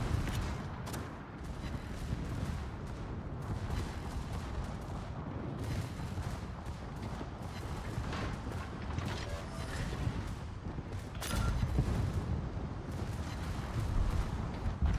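Battleship rear turret fire in World of Warships: continuous deep booming naval gunfire and rumbling explosions, with a couple of louder heavy blasts near the end, no talk over it.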